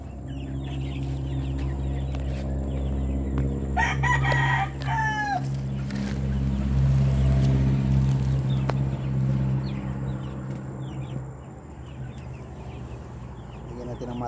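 Chickens and a rooster packed into a cramped cage, clucking steadily up close with a loud crow cutting through, while someone talks over the flock.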